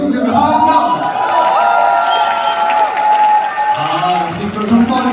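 An audience at an indoor business seminar applauds and cheers to welcome a guest lecturer, with sustained clapping and whoops under the lecturer's amplified voice.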